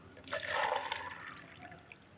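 About a litre of water pours into a fertilizer mixture for a cabbage grow bag, a short, close splashing trickle that swells and then tapers off over a couple of seconds.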